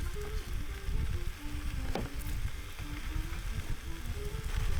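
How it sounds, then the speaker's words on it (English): Potatoes sizzle steadily in a skillet over a campsite fire, a continuous crackling hiss at moderate loudness with scattered pops, and no one talking. "Next, I add the potatoes to the skillet."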